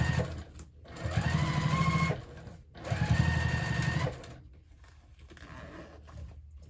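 A sewing machine basts a bag lining in place, stitching in two loud, steady bursts of about a second and a half each, separated by short pauses, then quieter handling.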